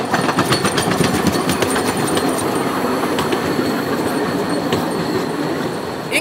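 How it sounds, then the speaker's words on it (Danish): A mini train rolls through a park in Dresden, wheels clicking and rattling steadily over the rails with faint squeals, close and continuous, no voices. "Nej, vi skal ud og køre med noget minitog."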